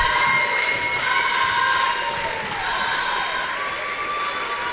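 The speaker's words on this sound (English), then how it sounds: "Well-deserved round of applause from the OCC cheering section." Applause and cheering rise from the OCC cheering section at an NJCAA Region 3 Division 3 women's basketball championship final, a dense, loud wash of crowd noise that stays steady throughout.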